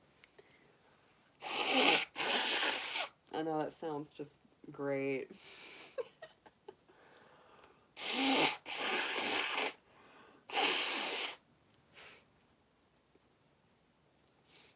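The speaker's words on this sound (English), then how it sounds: "Let me blow my nose real quick." Several loud, forceful nose blows in bursts, close to the listener, with a brief stretch of talking in between.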